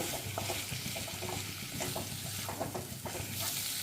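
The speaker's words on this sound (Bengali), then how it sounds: "এবার এখানে ভেজে রাখা আলু পটলগুলো দিয়ে দেব দিয়ে একবার ভালো করে মশলার সাথে নেড়ে মিশিয়ে নেব" Fried potatoes and pointed gourd are stirred with spices in a pan, making a soft, faint sizzle broken by light scraping and clinking strokes.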